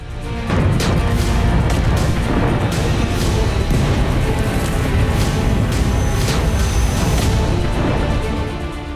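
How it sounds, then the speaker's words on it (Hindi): Loud, dense rumbling with repeated sharp blasts and crashes as Hezbollah rockets explode over northern Israel, amid continuous roaring noise. "और धमाकों की गूंज से दहलता नॉर्थ इजरायली इलाका।"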